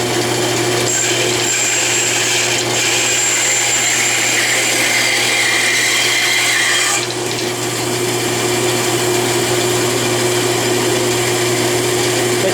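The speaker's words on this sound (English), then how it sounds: "I'm at the Delta 14-inch bandsaw, and I have tilted the table at 3 degrees." Delta 14-inch bandsaw with its table tilted 3 degrees cutting a wooden foundry pattern, a loud continuous motor whine and blade hiss, the pitch dipping briefly partway through as the cut changes.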